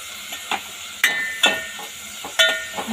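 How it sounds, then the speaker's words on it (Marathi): Tomatoes fry in a pan for a Konkan chicken rassa, with a soft sizzle under several sharp, close metallic clanks from a stirring utensil spaced irregularly. "टोमॅटो पण छानपैकी फ्राय करून घ्यायचे।"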